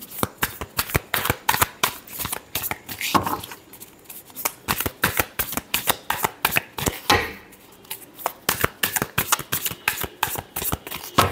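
Tarot cards are shuffled by hand with rapid riffling flicks in repeated bursts and short pauses between them. The sound is close and clear, with no voice.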